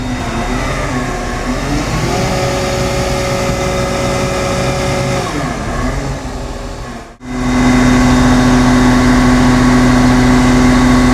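A mobile crane truck's engine runs under throttle, loud and close, holding a steady drone, then dips sharply for a moment and returns with a higher, stronger tone.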